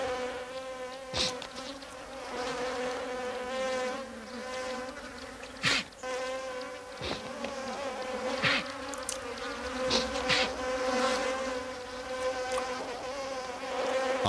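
Bees buzz steadily and close by in the hot, dry African savanna, a continuous droning hum with individual insects swelling louder as they pass.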